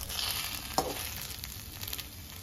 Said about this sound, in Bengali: মুড়ে নেওয়ার পর পাটিসাপটার গায়ে অল্প একটু তেল ব্রাশ করে পাটিসাপটাটাকে ভেজে